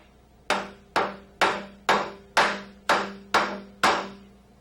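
Eight sharp, evenly spaced mallet strikes ring out one after another driving plugs into a Rotorway 162F helicopter part, each a solid knock that decays quickly, with quiet between blows.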